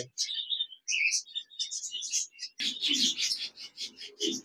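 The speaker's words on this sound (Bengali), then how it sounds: "এখানে দেখতে পাচ্ছেন একজোড়া বাজরিগার পাখি, বিগ সাইজের রানিং পেয়ার" A big-sized breeding pair of budgerigars in a cage with chicks, giving rapid high chirps and warbling chatter up close, sparse at first, then denser with a low rustle underneath.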